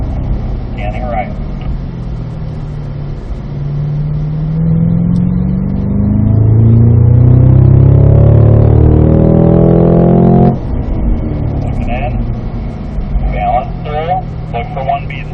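Cadillac CT5-V Blackwing accelerating on a racetrack, engine roar rising in pitch through a long pull before cutting off abruptly, with an instructor talking over the car before and after.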